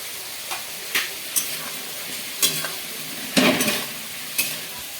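Cut potatoes frying and being stirred in a pan as a prawn dish is cooked, with a steady sizzle broken by repeated scraping strokes of a spatula, close and moderately loud.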